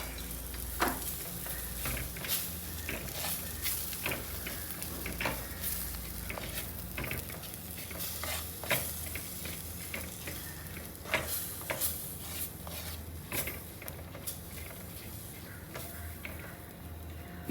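Masala frying in a pan on a low flame for a Kerala-style fish head curry, with steady quiet sizzling and occasional soft stirring scrapes and clicks throughout.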